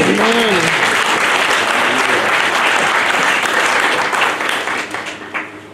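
A church congregation claps and cheers in praise during a Sunday service, sustained loud applause that tapers off near the end, with a brief voice audible at the start.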